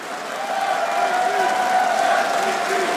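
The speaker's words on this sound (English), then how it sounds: "That's a chant right there." A dense esports crowd at EMS One Katowice 2014 roars continuously during a Counter-Strike: Global Offensive semifinal, voices blending into sustained cheering with a rhythmic chanted tone running through it.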